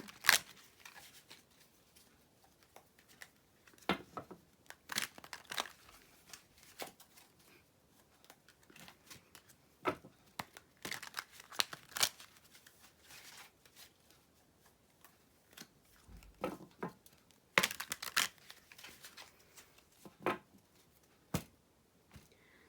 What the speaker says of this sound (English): Sometimes it takes me longer just to shuffle the deck, the cards.